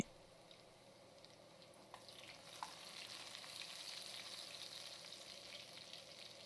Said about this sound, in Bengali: তেলটা গরম করে নিয়ে ফোড়নে দিয়ে দিচ্ছি হচ্ছে রসুন কুচি